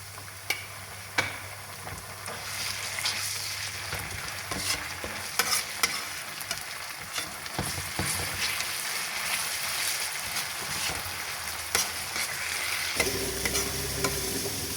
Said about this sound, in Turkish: Şimdi bir kaşık salçayı da kavuralım.